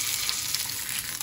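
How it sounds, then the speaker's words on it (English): Pork loin searing in a little hot oil in a saute pan, a steady close crackling sizzle throughout with small pops. "we are going to sear all the sides of our pork loin"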